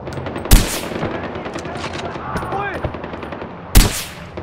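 Gunfire in the video game Far Cry 4: two sharp, loud shots about three seconds apart stand out over a busy bed of game noise, with a brief warbling, chirping sound between them.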